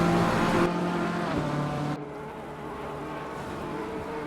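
BMW and Porsche race cars in a sim racing game at Paul Ricard, layered buzzing engine tones held at high revs that drop noticeably partway through, then carry on at a lower, steadier pitch.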